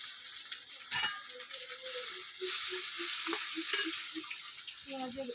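Prawns fry in hot oil with onion and green chilli, giving a bright continuous sizzle while a spatula stirs and scrapes the pan in an uneven rhythm of short knocks.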